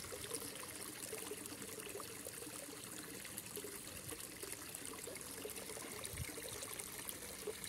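Small 2000 L/h water pump circulating water in a fish-farming tank, a faint, steady trickling wash with no breaks.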